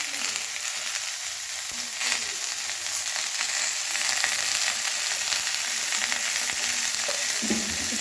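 Capsicum sizzles and is stirred in a little oil in a kadai for paneer, a constant close bright hiss with occasional scraping taps from the spatula.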